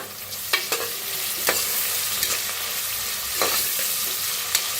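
Onion, asafoetida and curry leaves sizzle steadily in a hot pan while a spoon stirs them, with repeated scraping strokes against the pan over the continuous frying hiss.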